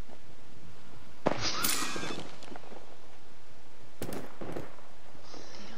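Two sharp bursts of video game gunfire, each a sudden crackling blast with short echoing tails, separated by a couple of seconds of quiet.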